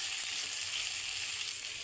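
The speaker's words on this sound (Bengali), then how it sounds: "দিয়ে আবার এটাকে ভালো করে কষিয়ে নিচ্ছি" Okra and rohu-style fish curry sizzling steadily in a pan as it is sautéed, a continuous close hiss of frying with no voices.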